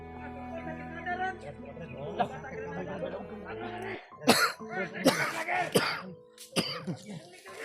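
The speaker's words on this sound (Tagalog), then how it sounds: "Inuubo na ako dito, tol." Several sharp, harsh coughs and throat clearing close to the microphone, starting amid steady background noise and then coming in quick bursts.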